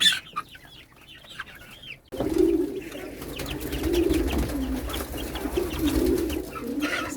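Chickens and pigeons inside their coop give close clucking and soft cooing, with a few sharper bird calls at the start and then a busier, steady layer of fowl noise.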